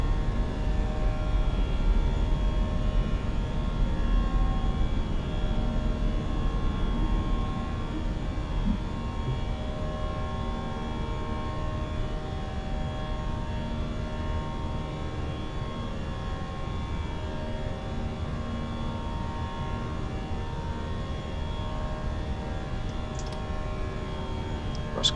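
A British Airways Airbus A320 climbs after takeoff in a flight simulator game, its engines a steady droning hum with a tonal whine that eases slightly after the first few seconds and then holds constant.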